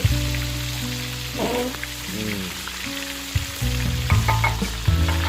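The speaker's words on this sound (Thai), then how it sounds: "หลังจากนี้ก็รอประมาณเจ็ดนาทีนะครับ ในการทอดแต่ละข้าง" A whole salt-crusted tilapia of about 700 to 800 grams deep-frying in oil, giving a steady, fairly loud sizzle. A tonal melody plays throughout.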